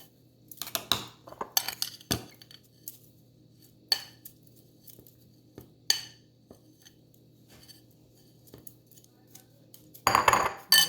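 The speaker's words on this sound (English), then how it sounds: "Okay, so I'm going to add some more ice" Ice being added to homemade halo-halo dessert, heard as a series of brief clinks and clatters of cubes against a glass and utensils, sporadic and close, with a louder burst of rattling near the end.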